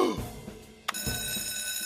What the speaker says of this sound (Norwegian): Jeg drar og ringer brandmann Sam